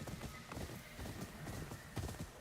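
Horse hooves clip-clop in the Ghost of Yōtei video game, a steady rhythmic trot of close, repeated hoofbeats with no talk over it.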